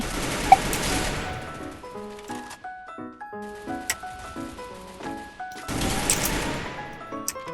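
Rapid gunfire bursts from the Free Fire battle game, sharp repeated shots and impacts in clusters at the start and end, with musical tones and game effects in between and no talking.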